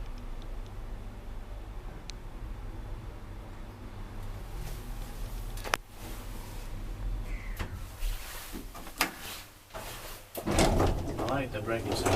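A 1998 Sele traction elevator brakes with mechanical clunks and knocks, including a sharp thump and a rattling grind near the end, all set against steady machine hum while people talk quietly nearby.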